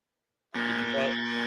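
A loud, harsh electronic buzzer blares suddenly after a short silence and holds steady and alone to the end.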